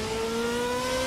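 A 2014 GP2 racing car's V8 engine in Assetto Corsa at Spa Francorchamps holds a steady, high rev, giving a loud, continuous buzzing drone with no pauses or gear changes.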